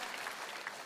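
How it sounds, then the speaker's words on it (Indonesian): A church congregation claps during a sermon, a faint, brief, even wash of applause from a crowd. "Tepuk tangan buat Tuhan Yesus kita."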